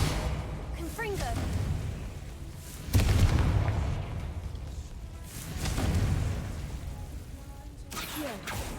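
Bombarda and Confringo explosion spells from the Hogwarts Legacy video game, two heavy booming blasts several seconds apart over ongoing game effects, with a person talking throughout.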